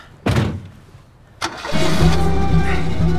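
A car engine cranks briefly, catches on a second attempt and settles into a steady, close idle that carries on alone to the end.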